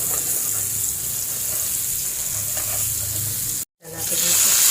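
Leftover spice masala hits hot oil in a pan with a loud, continuous hiss of sizzling, briefly broken by a short silence before the frying resumes.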